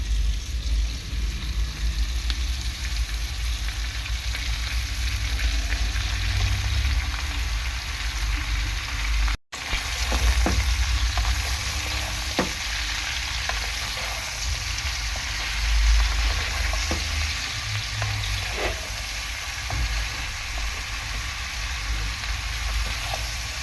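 Chopped bottle gourd sizzling with already-fried potatoes in a pan, a continuous crackling fry with scattered pops and a few faint utensil taps, heard alone without talk.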